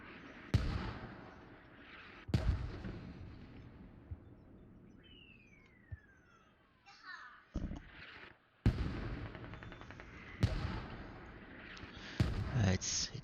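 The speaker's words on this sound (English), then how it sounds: "Now these alternating mortars with smokes and frag." In a multiplayer war game on the Mutaha map, with American and Russian sides, alternating smoke and fragmentation mortar rounds land as sharp, booming impacts at irregular intervals, with one descending whistle and a rumbling background between them.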